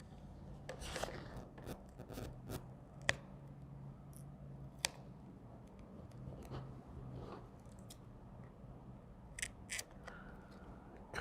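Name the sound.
cutting rubber trim on Aston Martin DB9 mirror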